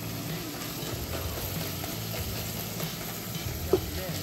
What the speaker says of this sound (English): You're gonna hear it, it's already starting to fry.